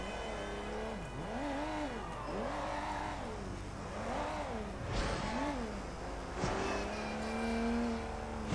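A taxi cruising through the streets in the video game Sleeping Dogs, its engine note swelling and dipping in steady repeated rev cycles, with a couple of sharp thumps near the end and a steadier tone after.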